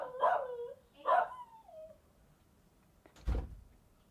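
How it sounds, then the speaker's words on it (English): A dog in a house gives two short, whiny barks close by, followed a moment later by a dull thump like a door. "Dog barking over here."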